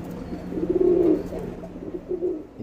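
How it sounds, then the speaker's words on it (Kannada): Male Nagina pigeons in a loft, soft throaty coos close by: one longer rolling coo, then a shorter one after a pause, over faint background murmur. "ಎರಡು ಗಂಡು ಪಟಗಳಿದ್ದು. ಇದು ಬಂದ್ಬಿಟ್ಟು ಒರಿಜಿನಲ್ ನಗಿನಗಳು"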